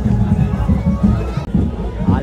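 Loud, close crowd clamor at an Ekvira palanquin procession, overlapping voices and shouts forming a continuous hubbub with a brief dip partway through.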